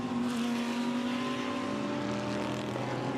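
A GT race car drives past on the Misano circuit during qualifying, a loud sustained engine note with a strong steady tone, heard alone without talk.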